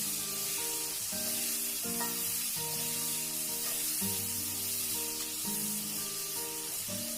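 Chopped onions fry in hot oil for a chicken roast, giving a steady, continuous sizzle beneath louder background music.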